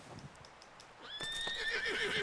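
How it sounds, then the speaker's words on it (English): A horse rears and lets out a rising, drawn-out whinny in the video game Red Dead Redemption 2, following soft hoof clops, fairly quiet overall. "Pera aí, empinar cavalo?"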